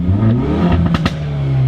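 Hyundai i30 N revving hard in its most aggressive drive mode, a loud close engine roar with a couple of sharp exhaust pops and crackles breaking through near the middle.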